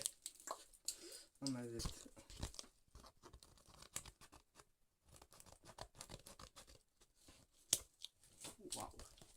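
Paper or cardboard is cut around a shape for a handmade box, producing quiet intermittent snips, crinkles and rustles close by, with someone talking and exclaiming at intervals.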